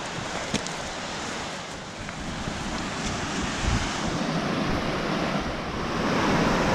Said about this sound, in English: So we have this big flowing river right here, or creek, and it comes out of that little hole.